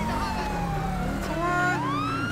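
A battered toy police car plays its electronic siren, a loud wailing tone that rises and falls continuously and sits close to the microphone.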